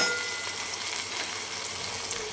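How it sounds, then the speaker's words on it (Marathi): Lime pieces and green chillies fry in hot oil, giving a dense, steady sizzle and crackle that runs unbroken and close for the whole short stretch, with no voices. "ह्याला पण आपल्याला मिनिटभर या मिरचीसोबत आपल्याला छान तळू द्यायचं।"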